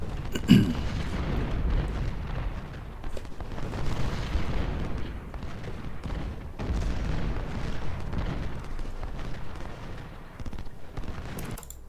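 Cannon fire in Ultimate General Civil War on a battlefield, heard as a steady rumble of distant booms and crackling volleys with no speech.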